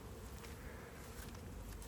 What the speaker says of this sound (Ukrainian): Наразі бджілки облітуються досить гарно.